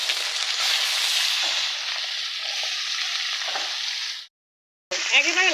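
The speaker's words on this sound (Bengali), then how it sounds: "এবার আমি মাছটা ভেজে নেব" Rohu fish frying in oil gives a loud, dense, close sizzle that holds steady for about four seconds, cuts out abruptly, then returns briefly with a sputtering crackle.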